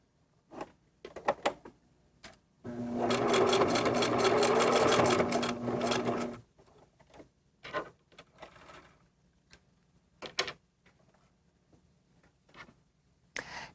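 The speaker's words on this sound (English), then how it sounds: "Place under the presser foot and straight stitch, back stitching several times" Sewing machine straight stitching quilting fabric with back stitching, one loud sustained run of about four seconds set amid faint clicks and handling taps before and after.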